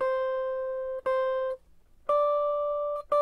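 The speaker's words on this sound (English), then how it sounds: "the notes are getting higher when we're getting up the neck and lower down the" Single plucked guitar notes played moving up the neck, sounded one at a time with short gaps, each ringing clear and close, with the later notes higher in pitch; no talking.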